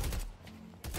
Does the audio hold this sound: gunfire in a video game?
yes